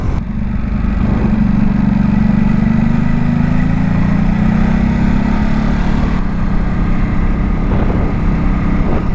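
A 2023 Ducati SuperSport 950S motorcycle engine drones steadily while riding, a loud continuous mid-low hum with wind rush layered over it, holding fairly constant throughout.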